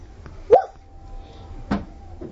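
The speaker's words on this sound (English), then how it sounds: "He came bounding after them, hackles up, barking his head off" A dog gives two short, sharp barks spaced about a second apart, close and fairly loud over a quiet background.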